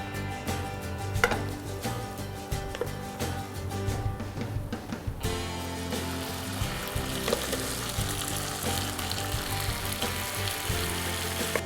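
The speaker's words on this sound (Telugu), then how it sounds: "ఇప్పుడు దీంట్లో మనం వెనుపొంగల్ని కలిపేసుకుందాం" Venn pongal is mixed into a ghee and cashew tempering. A dense, steady sizzle runs under repeated scraping and stirring of a utensil in the pan, with a short quieter gap midway and no speech.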